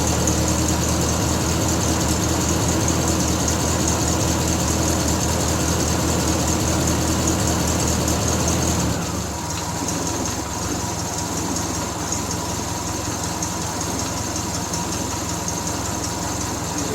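A car engine idles steadily after winter storage, running cold with the choke just taken off. The steady, fairly loud drone drops to a quieter, smoother idle about halfway through.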